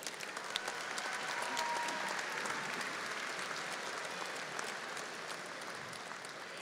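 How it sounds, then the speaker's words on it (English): Sustained audience applause at a university commencement ceremony honoring graduates, steady dense clapping filling the hall from start to finish with no talk over it. "Let's honor these graduates with a round of applause"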